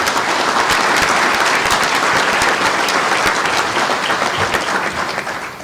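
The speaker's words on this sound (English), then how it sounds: "Let's give one more round of applause." Sustained, loud applause from a large convention audience in a general session hall, dense steady clapping throughout that thins slightly toward the end.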